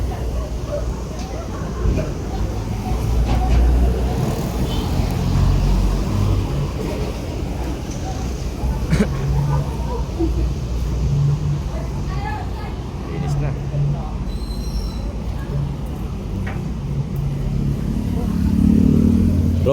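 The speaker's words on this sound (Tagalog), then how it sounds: "mabilis ang mga sasakyan dito" Traffic on a busy highway rushes by in a constant loud roar. Engines pass one after another, motorcycle and car noise blend together, and a voice talks over it.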